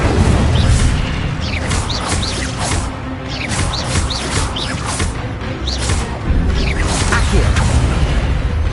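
The Incendio fire spell is cast repeatedly in Hogwarts Legacy. Whooshing fiery bursts and booms repeat every second or so among constant loud combat noise, with a voice calling out spell names.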